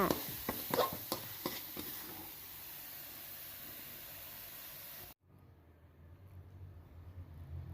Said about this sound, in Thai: ผัดคลุกเคล้าทุกอย่างเข้ากันก็ถือว่าเป็นอันเสร็จเรียบร้อยแล้ว